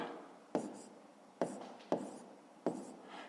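Pen writing by hand during a fifth-grade maths exercise, four sharp scratchy strokes at a steady pace, each starting with a quick tap and trailing off, close and quiet with no talking.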